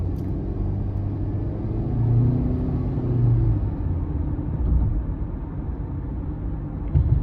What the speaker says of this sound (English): the turbo actually does its thing very easily. I'll show you coming out of this corner